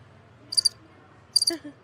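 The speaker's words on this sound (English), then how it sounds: "don't you hear the damn crickets?" Two short bursts of cricket chirping used as a sound effect on a morning radio show, high and thin, spaced about a second apart over faint background hum.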